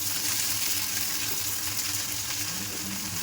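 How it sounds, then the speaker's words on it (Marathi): Chopped tomato and browned onion frying in a pan beside eggs, a dense continuous sizzle heard up close with no voices over it. "टोमॅटो वगैरे हलवून घ्यायचा त्याला मस्त. त्याला फ्राय करायचा एकदम मस्त."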